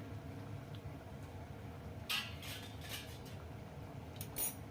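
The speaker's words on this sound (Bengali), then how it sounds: "এই একবার ঢাকা দিয়ে দেবো" A metal lid goes onto a cooking pot of hilsa and eggplant curry with two soft, separate clinks a couple of seconds apart, set against quiet kitchen background.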